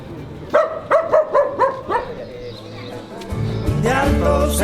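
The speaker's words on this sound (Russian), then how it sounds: "Реально город собак" Several dogs bark in a quick series of sharp yaps on a town street in San Pedro, Chile, then street noise and a voice rise as the barking fades.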